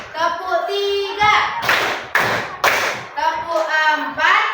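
Children in a classroom clap-counting game: three sharp bursts of group clapping alternate with voices calling out the count, loud and close.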